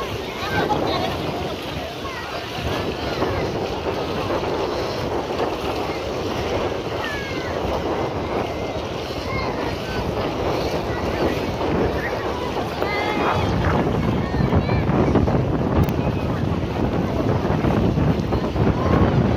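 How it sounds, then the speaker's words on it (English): Strong wind buffets the microphone at a beach in Africa, a steady broadband roar that grows louder in the last several seconds, with surf likely mixed in. "Extremely windy here."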